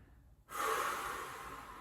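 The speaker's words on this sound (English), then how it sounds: "Nice deep breaths." One deep breath during a floor-based core exercise, a short silence then a long, close breathy rush that slowly fades.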